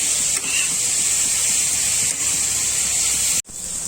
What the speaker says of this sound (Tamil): நெய்யிலே நல்லா வதக்கிடுங்க, இந்த பச்சை வாடையெல்லாம் போகட்டும்.